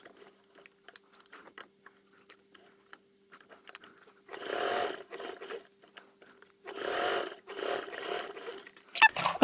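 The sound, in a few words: sewing machine sewing bag edges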